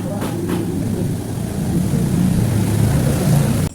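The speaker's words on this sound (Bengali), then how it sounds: "তাই এটাকে গ্রাইন্ড করে নেব" A mixer grinder grinding soaked, still-warm sago: a steady, loud motor whir with a dense grinding rumble that holds for several seconds, then cuts off abruptly at the end.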